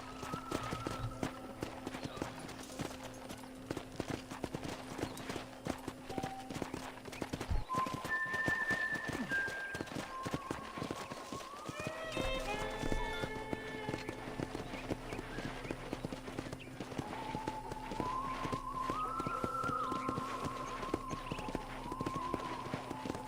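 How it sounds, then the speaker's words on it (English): Horse hooves clip-clop in a steady walking rhythm while riding around a ranch in the video game Red Dead Redemption, with a soft game music bed and occasional tonal cues over it. "let's see if you can still ride a horse."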